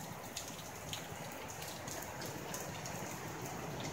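Heavy flood rain pours steadily over an Australian backyard, a dense continuous hiss with scattered nearby drips and splashes, no voices.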